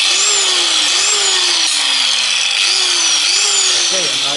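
A sanding machine whirring steadily while sharpening an ax blade, with a rising and falling grinding whine as the blade is moved back and forth, close and loud throughout.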